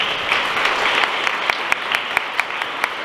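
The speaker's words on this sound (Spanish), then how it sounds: "Un fuerte aplauso para Tepehuanes." Applause at a cultural funding award ceremony: steady clapping from a gathered audience, fairly close and continuous, with a few sharper individual claps standing out.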